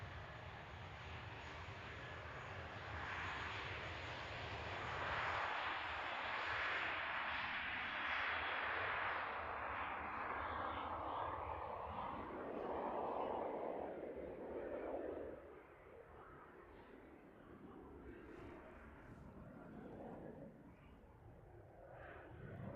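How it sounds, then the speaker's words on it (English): A Jetstar airliner roars during takeoff at an airport on its way to Melbourne. The loud, broad jet engine rush swells, then slowly fades as the aircraft climbs away into the distance. "Great noise there from Jetstar on the way to Melbourne this morning."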